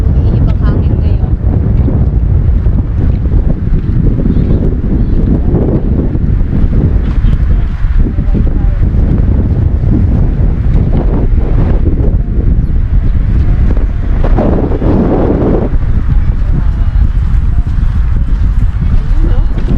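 Strong wind at a lakeside campsite buffets the microphone in a loud, continuous roar, with gusts swelling and easing throughout.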